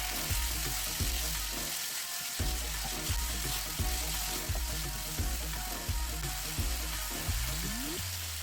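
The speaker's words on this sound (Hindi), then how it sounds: "इसको पानी का छींटा दे के थोड़ा सा भून लेना है" Meat for aloo gosht fries in a pan after a splash of water, giving a loud, continuous crackling sizzle. Rhythmic background music plays underneath.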